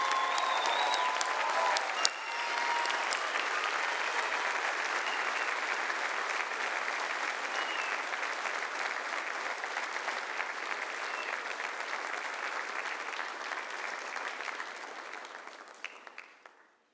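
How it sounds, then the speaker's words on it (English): Sustained audience applause fills a graduation commencement ceremony for a newly commissioned Army Military Police officer, loud and even from start to finish, fading out at the end. "please join me in a round of applause for the newest officer"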